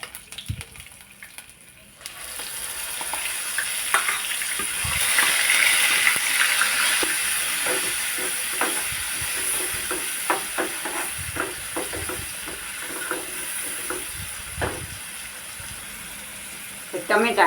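Tomato gravy and onion fry in hot oil with a steady hiss that swells after a quiet start, with scattered pops and spatters over the ongoing sizzle.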